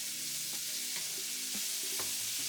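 Seasoned beef sizzling in a pan under a constant hiss, with a few soft stirring scrapes, close and quiet.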